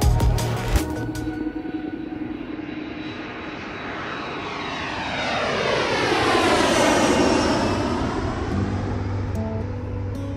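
An airplane landing at Cristiano Ronaldo airport on Madeira roars loudly and steadily, its engine pitch sweeping down and swelling to a peak before settling into a continuous rumble.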